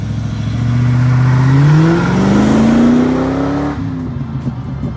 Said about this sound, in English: powered by a fully rebuilt and upgraded RPI engineering Rover V8 with 5-speed manual